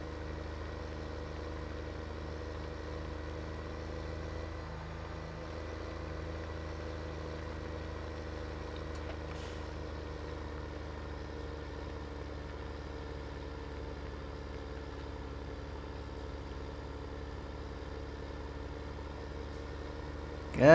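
Farming Simulator 17 tractor engine heard from inside the cab while driving uphill, a steady low droning hum that stays constant throughout.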